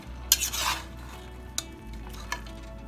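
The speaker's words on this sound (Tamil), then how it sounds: "சும்மா ஒரு தடவை ஒரு கிளறி விட்டுருங்க" Small pieces of coconut and green chilies are stirred once in a pan, with a brief swishing scrape followed by a couple of light spatula clicks over a low sizzle.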